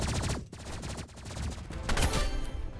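Energy pistol fire in the Rivals shooter game, rapid bursts of shots running densely across the whole stretch, loud and close with a busy game mix behind.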